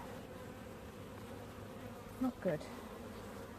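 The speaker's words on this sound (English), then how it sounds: "the bees aren't obviously very happy about that particularly" Constant low buzzing of many honeybees in a hive with a failing queen, close by, with someone briefly speaking a couple of words partway through.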